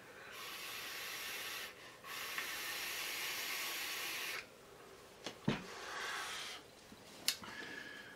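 Steady airy hiss of vapour being drawn through an Aeronaut rebuildable dripping atomizer with its airflow fully closed, long continuous pulls broken by short pauses and a few faint clicks, close and alone.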